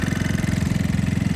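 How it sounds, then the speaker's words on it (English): A Talon GSX150 motorcycle engine idles very low with a steady, rapid, even putter, loud and close with no other sounds over it. "you can hear the engine revving very low"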